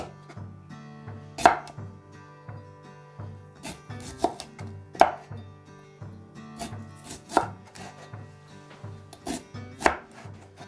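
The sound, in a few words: slicing cucumbers with a knife for pickles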